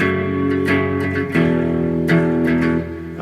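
Clean electric guitar chords strum without distortion, several strikes ringing out in a loose rhythm.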